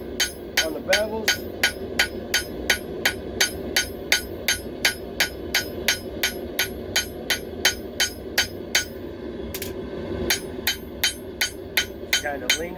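Rhythmic, evenly spaced hammer strikes ring out one after another as the tip of a knife blade is forged. The blows come close and loud, with one brief pause partway through.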